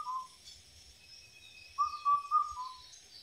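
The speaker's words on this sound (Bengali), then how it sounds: "সকালবেলা পাখির ডাক" Birds calling on a fresh, breezy village morning: a short clear whistled note at first, then a longer run of whistling calls a moment later, fairly close over a quiet background.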